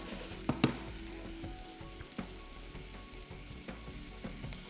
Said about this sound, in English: now the sauce is boiling. The sauce has come to a boil.